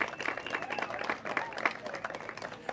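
Audience applause at a ribbon-cutting ceremony for a headquarters grand opening in Sacramento: a moderately loud, continuous wash of clapping from a crowd, with some murmur mixed in.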